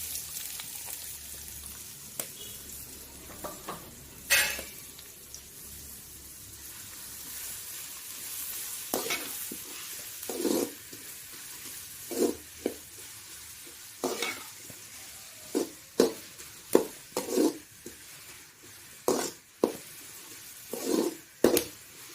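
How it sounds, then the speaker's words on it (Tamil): Onions sautéing in hot oil for a Chennai-style chicken gravy, a steady sizzle broken by repeated loud scraping stirs of a spoon against the pan, close and without speech. "நல்லா இந்த ஸ்டேஜ் வரையும் நல்லா வதக்கிங்க"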